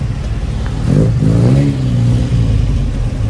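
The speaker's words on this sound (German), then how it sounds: "Jetzt kommen die ganzen Autos rein." Vintage cars arrive at a Mercedes-Benz oldtimer meeting in Marktbreit, a low, close engine rumble swelling into a rev before settling back to a steady drone, with no talking.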